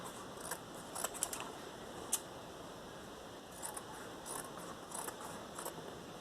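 Scissors snip excess quilt batting from fabric in a few quick, light cuts with small clicks, faint and close over a steady background hiss.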